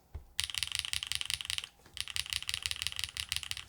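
Rapid typing on a mechanical keyboard with a PC plate and HMX Yogurt S switches, with dense bursts of close, crisp clacks, a brief pause midway, then more fast keystrokes.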